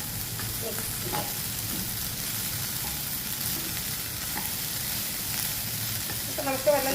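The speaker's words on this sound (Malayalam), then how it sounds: "നമുക്ക് പതുക്കെ നന്നായിട്ട് മിക്സ് ചെയ്യാം" Paneer fried rice being stirred in a hot pan gives a steady sizzle with soft scraping and tossing sounds, continuous and close.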